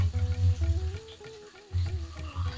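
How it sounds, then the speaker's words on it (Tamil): Mustard seeds, curry leaves, eggplant, raw banana and other vegetables sauté in hot oil for sambar, a steady close sizzle broken by scraping stirs and brief pauses. "ஒரே ஒரு நிமிஷம் இந்த எண்ணெயில் வதங்கட்டும்."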